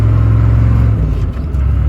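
A 1993 GMC 3500 one-ton 4x4 with a 6.5 turbo diesel and five-speed manual climbs a long steep hill at full throttle, a loud steady engine drone that drops in pitch at a gear change.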